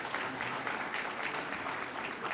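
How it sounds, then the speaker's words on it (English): Audience applause at the Silver Stars evening event, a steady wash of clapping from a crowd, moderately faint and continuous throughout with no talk over it. "And give you guys a round of applause."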